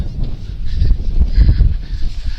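Ducks and swans call outdoors in the Pentland Hills, a few honking, goose-like cries rising over a steady low rumble of wind, with no talking.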